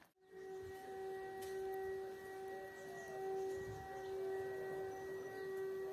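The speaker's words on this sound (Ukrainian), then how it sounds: "З ночі наступив ранок і знову повітряна тривога." An air raid siren sounds during a morning alert in a Ukrainian village, a sustained steady wail holding several tones, loud and continuous from start to end, carried over faint outdoor background noise.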